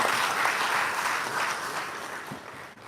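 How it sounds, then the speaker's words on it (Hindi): A crowd at an education department event in Bihar gives a round of applause, steady, full clapping at moderate distance that slowly tapers off, with no talking over it. "तालियां बजा दें"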